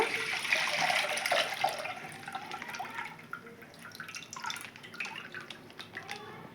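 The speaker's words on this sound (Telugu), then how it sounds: "పాలైతే వేస్తున్నానండి దీంట్లో" Milk pouring steadily from a cut packet into a bowl, a continuous splashing stream that gradually softens, with faint background noise.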